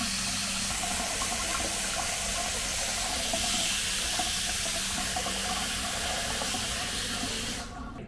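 Water running steadily from a household tap supplied by a pressure tank, a continuous even rushing hiss with no sputtering, fading slightly at the very end.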